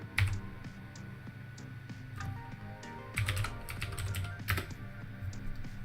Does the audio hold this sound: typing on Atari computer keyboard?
yes